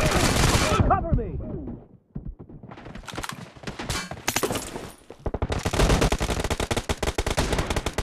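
Rapid automatic gunfire fills a video game team deathmatch, loud bursts that stop briefly, give way to scattered shots, then return as a dense sustained barrage, with voices mixed in.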